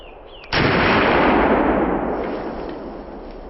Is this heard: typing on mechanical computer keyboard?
no